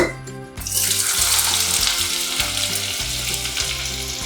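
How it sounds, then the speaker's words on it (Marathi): Onion hits hot oil in a heated kadhai with a sudden loud sizzle that settles into a steady, crackling fry, with faint background hum underneath. "कढई आपली तापलेली आहे तेल पण टाकले त्याच्यात तर आता आपण पहिल्यांदा कांदा टाकूया त्याच्यात"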